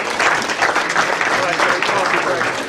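An audience applauds police department members during a ceremony at a borough council legislative meeting. The clapping is loud and continuous, a dense patter that fills the whole moment with no voices over it.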